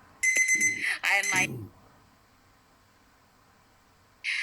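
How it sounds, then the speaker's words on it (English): A bright electronic alarm rings in two short bursts, then falls quiet before a third burst starts near the end; loud and close. "My alarm clock just rings."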